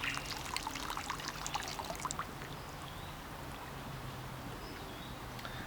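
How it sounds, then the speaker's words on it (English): Water pushed by a syringe through a filter for water sampling trickles and splashes in a steady, close stream with small gurgling spurts and a quiet background hum, and no voices. "So all we need to do is to lead the water through the filter"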